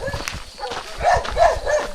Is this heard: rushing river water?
no